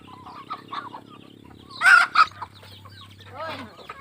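Jungle fowl and chickens clucking and calling in short bursts, a couple of louder squawks in the middle, with a low steady hum underneath and no talking.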